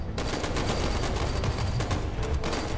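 Sustained rapid gunfire rattles through a firefight in the video game Lacuna, dense overlapping bursts of automatic weapons filling the scene loudly and continuously.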